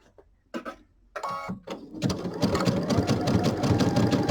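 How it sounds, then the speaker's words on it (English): A sewing machine stitches binding onto quilt fabric, starting with a few short bursts and then running in a steady, fast mechanical rhythm up close. "I'm taking one stitch off the fabric and the other stitch is on my binding"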